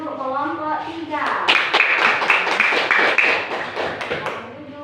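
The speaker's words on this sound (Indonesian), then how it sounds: "Beri tepuk tangan untuk kelompok 3" A classroom of students claps for a group of classmates, a burst of close, dense handclaps rising after a moment of talk and carrying on steadily to the end.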